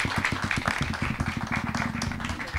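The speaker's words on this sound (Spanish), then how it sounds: "ahora sí un aplauso por favor para los compañeros" Audience applause for the speakers at the close of a panel discussion, a dense patter of many hands clapping, steady and fairly close, with no voices over it.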